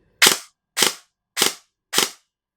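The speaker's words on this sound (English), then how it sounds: "So this is precocking turned off. It will burst fire a little bit." A G&G airsoft AEG with precocking switched off fires four short, sharp bursts, each a crisp mechanical crack-rattle, evenly spaced about half a second apart and loud and close, with silence between.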